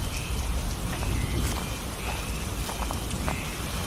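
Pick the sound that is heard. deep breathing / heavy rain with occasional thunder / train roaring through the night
heavy rain with occasional thunder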